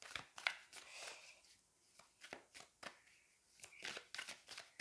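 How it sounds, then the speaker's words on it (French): Tarot cards handled and drawn from a deck, soft papery shuffles, slides and flicks close by in irregular bursts, fairly quiet, without speech. "On va aller prendre une autre carte."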